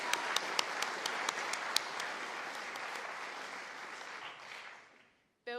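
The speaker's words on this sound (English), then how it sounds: "I reckon we do another round of applause," Audience applause at a startup showcase, dense steady clapping with a few sharper claps early on, filling the room before fading out near the end.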